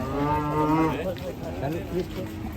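Cattle moo loudly and close by, a long drawn-out bellow followed by rougher, agitated lowing from aggressive, raging cows, with other animals calling faintly behind.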